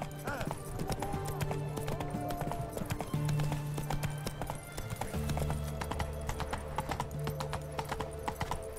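Horse hooves clip-clop steadily in The Witcher 3 during a derby race, running through most of the stretch under game music, with a horse neighing and a voice talking over it.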